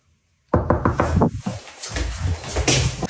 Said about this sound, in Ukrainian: Він, як ми бачимо, стукає і тікає.